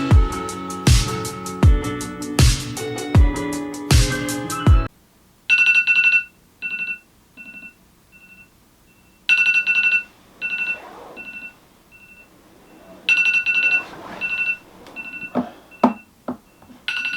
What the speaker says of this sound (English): I hate that alarm.